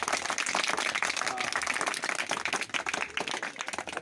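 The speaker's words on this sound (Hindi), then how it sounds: "ताली बजानी जरा बजा के दिखाओ" A group of children clap their hands loudly together at a teacher's request during an education outreach session. The clapping is fast, scattered and continuous, with faint voices mixed in.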